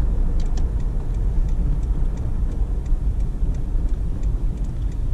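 A Paraguayan-market Toyota Hilux SW4 drives along a road, its engine and tyres making a steady, low rumble with faint intermittent rattles from the cabin.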